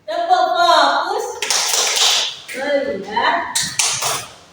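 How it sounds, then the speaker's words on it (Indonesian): A classroom group performs the 'tepuk fokus' focus routine, chanting voices mixed with a few sharp bursts of hand claps, close and fairly loud. "Tepuk fokus."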